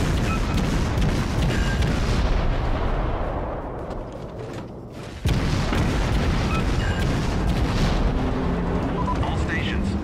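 Naval artillery fire from ships in the World of Warships game, with the USS Hotlanta in action: a loud, continuous roar of booming gunfire that briefly thins out, then crashes back in at full strength.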